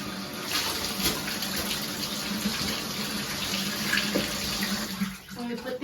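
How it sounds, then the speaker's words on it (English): Water runs steadily into a bathtub as it's rinsed out during bathroom cleaning, a close, continuous rushing splash that thins out briefly near the end. "I'm just gonna rinse out the tub"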